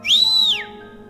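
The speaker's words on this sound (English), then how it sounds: "the other delinquent in track pants made a loud whistle" A delinquent in track pants gives one loud whistle in the Tiny Bunny video game. The single tone is clear and close, rises sharply, holds for about half a second, then slides down and ends.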